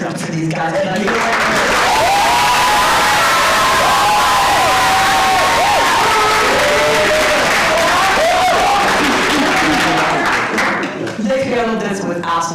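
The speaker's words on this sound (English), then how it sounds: "Can we just give a round of applause for these guys?" A university student association presidential debate audience erupts in loud, sustained cheering, whooping and clapping, with shouting voices rising over the applause before it tapers off.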